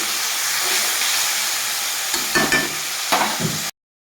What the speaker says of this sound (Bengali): দুটো টমেটো দিয়েছি আমি